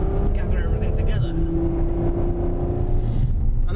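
A Ferrari F12 Berlinetta drives on road and track, its engine holding a steady tonal drone with a pitch shift partway through, loud and close throughout.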